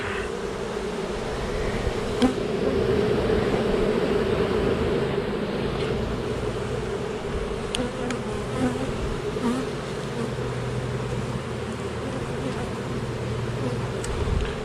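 Honeybees swarm around an open hive while honey frames are pulled, a dense, steady buzzing drone that stays loud and close throughout, with faint clicks of handling and no talk.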